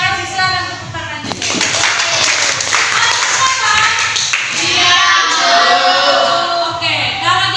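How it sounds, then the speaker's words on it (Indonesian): A classroom of high school students bursts into sustained applause, many hands clapping densely and loudly for several seconds, with some voices mixed in among the clapping. "Silakan tepuk tangannya."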